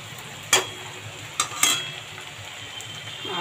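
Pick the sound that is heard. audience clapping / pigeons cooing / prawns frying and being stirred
prawns frying and being stirred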